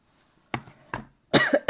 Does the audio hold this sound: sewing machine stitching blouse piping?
no